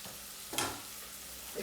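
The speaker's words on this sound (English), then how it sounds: "I'm just going to add the spices and let them cook for a few minutes" Spices and garlic fry in a pot for a spiced pumpkin soup, a soft steady sizzle with a brief louder hiss and stir midway, fairly quiet throughout.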